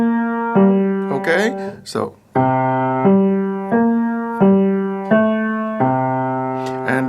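Piano playing the hymn God Is So Good in a flat key using the black keys, a steady run of sustained notes each struck about once a second, with a brief spoken interjection near the start.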